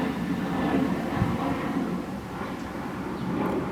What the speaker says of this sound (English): The plane is passing by.